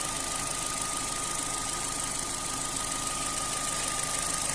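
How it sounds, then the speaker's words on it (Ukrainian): An Opel Z16XER engine, warmed up after a timing gear repair, idles steadily with a smooth even hum and a faint high whine, close and continuous with no talking. "Мотор прогрівся до 107 градусів."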